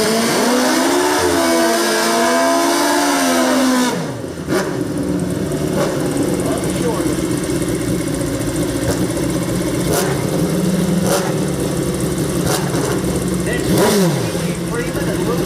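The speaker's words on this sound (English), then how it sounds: "Last pair of bikes coming up. Excellent bikes, good to go." Pro mod drag racing motorcycles at a live track event, first revving loudly in steady rising and falling waves, then a harsh sustained roar as they launch and pull away, with an announcer talking over the engines throughout.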